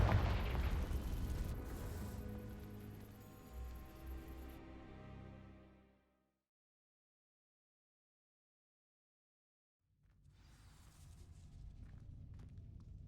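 Confringo blasting spell in Hogwarts Legacy igniting dry vines: a loud, dense explosive burst with crackling burn that cuts off into silence, then a low rumbling ambience returns.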